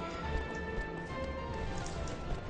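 A horse galloping in Shadow of the Colossus: a rapid, steady rhythm of soft, dull hoof thuds runs beneath a constant wash of wind-like noise, fairly quiet and close.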